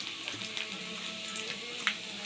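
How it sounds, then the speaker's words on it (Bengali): Nigella seeds, garlic and dried chilli sizzle steadily in hot oil, a close, even hiss with a few small pops and no talk. "এরপরে আমি একটু কালো জিরে দিয়ে দেবো ফোড়নে।"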